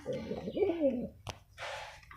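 A male pigeon coos in a low, rolling, warbling phrase, close by, followed by a brief click and a burst of rustling noise.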